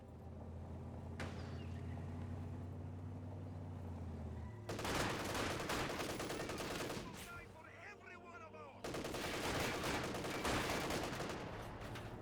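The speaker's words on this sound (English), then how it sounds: "MG42 providing some fire support" Bursts of MG42 machine-gun fire in a Company of Heroes 2 battle, with rapid rattling volleys in long stretches and a pause between them, set against ongoing battlefield noise and a commentator's voice.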